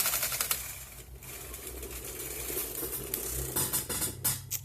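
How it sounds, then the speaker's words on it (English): A CH1500 knitting machine carriage is pushed across the needle bed, giving a continuous rattling mechanical clatter with a few sharper clicks toward the end, fairly close and loud. "I'm going to thread up the carriage. And knit across."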